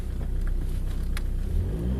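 An Opel Vectra being driven with its engine revving, a steady close mid-range drone with low rumble that rises and falls, alone with no talk.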